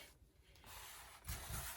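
Water sprayed onto the back of a mixed media collage on masterboard, a soft hissing mist that swells in a louder burst near the end of the short, faint clip.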